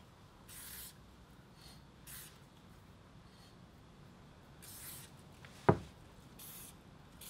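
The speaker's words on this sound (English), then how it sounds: "it even helps just to put a little bit of spray on there." Spray hits the drive wheel hole of a Scorpion grinder during assembly in a few brief, soft hissing bursts spread apart, followed by a single sharp click, all fairly quiet.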